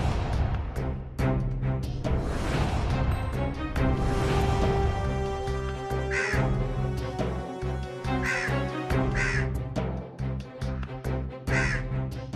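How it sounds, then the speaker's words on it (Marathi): A crow caws several times in short harsh calls, spaced a few seconds apart over a loud continuous dramatic music backdrop. "हा काक पक्षी माझ्याचकडे हेरून बघतोय"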